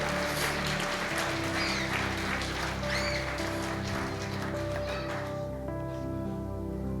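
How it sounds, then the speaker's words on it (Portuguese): A church congregation claps together in sustained applause, a dense patter of many hands filling the room, with a low sustained musical tone underneath that fades toward the end. "Aplaudo o Senhor mais uma vez."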